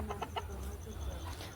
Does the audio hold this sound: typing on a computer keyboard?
no